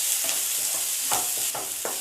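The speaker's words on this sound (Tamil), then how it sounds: "வெங்காயம் வந்து 1 நிமிஷம் நல்லா வதக்கி விடுங்க." Steady sizzling of onions frying in a hot pan, with soft stirring scrapes repeating every fraction of a second.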